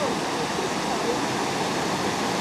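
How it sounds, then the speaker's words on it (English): The Virgin River flows through a narrow canyon with a steady, loud rushing of water and no clear talking. "there's a lovely river running through here."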